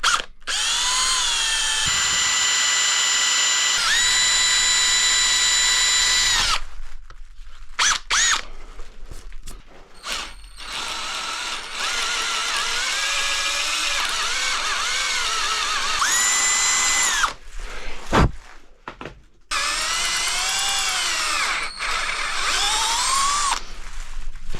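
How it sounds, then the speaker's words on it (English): A power drill bores into a BMW M50 engine, whining loud and close in long sustained runs that rise and fall in pitch, broken by short pauses and a few sharp clunks. "that's the first one drilled"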